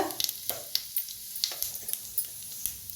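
Mustard seeds, cumin and asafoetida sizzle in hot oil, a soft steady hiss dotted with sharp crackling pops from the seeds, close and fairly quiet with no talking.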